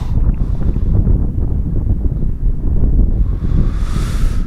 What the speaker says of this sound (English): Looks windy out there.